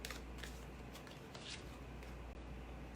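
Tarot-style inner peace cards are shuffled and handled up close, making a faint, steady riffling and papery slapping with a few brighter flicks throughout.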